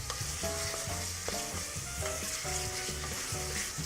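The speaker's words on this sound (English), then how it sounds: "we're just sautéing them down, sweating them off, making the onion soft, letting it release its flavour, and we're starting to cook the bacon" Onion and bacon sauté in a pot for soup, giving a steady close sizzle and crackle with soft stirring scrapes and no talk.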